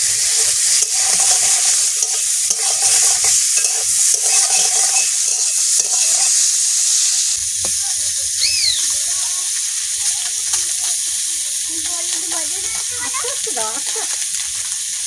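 Koi fish frying in a pan with cauliflower, a loud, steady sizzle running throughout with stirring noises, while voices talk faintly in the background partway through.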